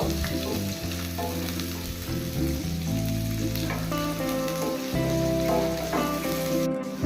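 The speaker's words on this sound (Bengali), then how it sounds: "বিনস 2 মিনিট একটু ভেজে নেব।" Thinly cut carrots and beans fry in a pan with a loud, continuous close sizzle, broken by intermittent stirring scrapes and clatters, ending on a brief sharp utensil knock.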